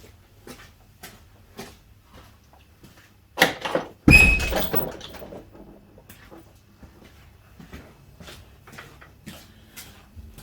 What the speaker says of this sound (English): I'm going to open the garage door and get the fumes out.